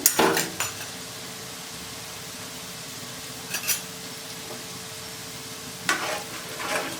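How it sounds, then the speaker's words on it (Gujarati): Fresh green turmeric sautés in ghee in a pan, with a soft steady sizzle throughout and a few brief scraping stirs of a utensil against the pan near the start, middle and end; no voices. "તો અહીંયા આપણે ચારથી પાંચ મિનિટ સુધી આમ જ સાંતળવા દઈશું હવે અહીંયા આપણે હલાવી લેવાનું છે"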